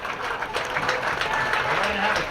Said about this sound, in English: to a round of applause for a gritty effort against a very tough Reading Memorial Rockets offense